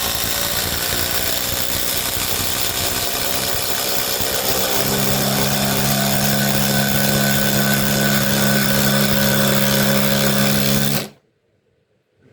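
Ridgid 3-speed brushless impact driver running on its top speed: a loud, steady high-pitched motor whine that rises in pitch partway through, then stops abruptly near the end, leaving silence.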